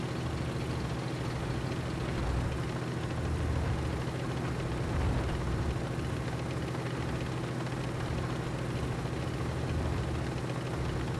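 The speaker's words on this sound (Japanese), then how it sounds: "エンジンブースト始動。" A heavy tank engine in World of Tanks Blitz drones steadily under engine boost, a continuous low rumble held at an even level for about eleven seconds with no speech over it.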